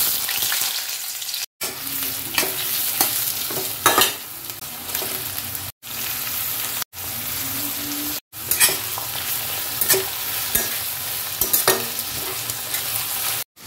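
Oil sizzling and frying steadily in a pan while preparing a crab dish, a loud continuous crackle with stirring scrapes, broken by a few abrupt cuts of silence.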